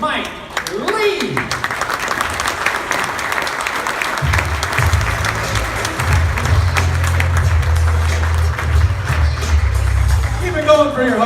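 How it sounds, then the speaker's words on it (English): An audience applauding a comedian being introduced at a stand-up show, steady clapping and cheering that carries on under a voice over a loudspeaker, with low music starting partway through. "will you please give a warm round of applause, Mr. Mike Lee."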